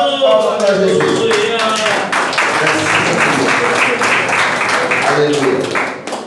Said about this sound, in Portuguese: e bate palmas para Jesus